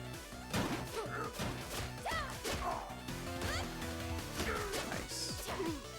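Heavy smashing hits and whooshing swings as a character batters enemies in the River City Girls brawler, a dense run of loud impacts over game music with no talk.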